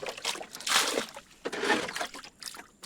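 Rainwater is bailed by hand out of a small fishing boat in a village river, with two splashing pours and some trickling in between, close and fairly quiet.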